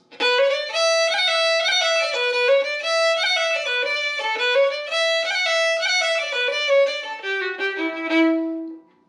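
A fiddle plays the Swallowtail Jig at tempo, brisk and continuous with rapid bouncing notes, close and bright, ending on a held low note.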